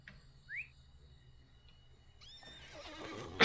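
A horse in the Lord of the Rings Online game gives a short rising whinny, followed by quiet hoof and movement sounds and a louder burst near the end.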